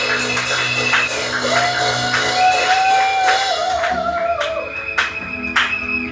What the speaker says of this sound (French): Est-ce qu'on peut acclamer pour ces cris de joie?